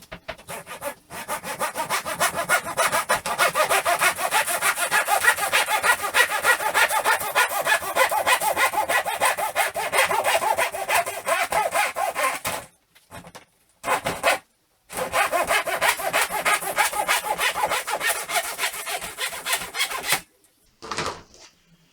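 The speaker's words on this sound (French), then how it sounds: "On va utiliser la scie." Steady back-and-forth strokes of a hand saw cutting through a ceiling panel, close and loud, with two short pauses before sawing resumes and then stops.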